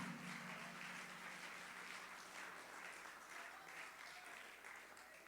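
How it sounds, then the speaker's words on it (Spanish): Church congregation applauding loudly for Christ during a sermon, a steady wash of clapping heard from a distance, quietly recorded and gently fading toward the end. "A su nombre, den un aplauso fuerte a Cristo ahí."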